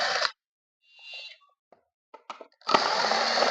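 An electric power tool whirs in short bursts while backing out the motor screws of a mixer grinder, stopping and starting with small clicks of metal between runs and a sustained run at the end.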